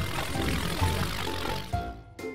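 An aeroplane propeller engine drones steadily with a buzzing rumble for about two seconds, then cuts off abruptly near the end, with a brief burst just after.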